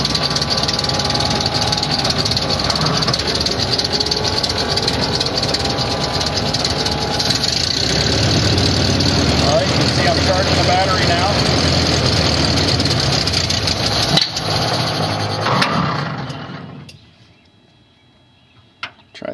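A 1929 Ford Model A pickup engine runs at a steady, rattling idle, loud and close, for about fifteen seconds before cutting off into near silence.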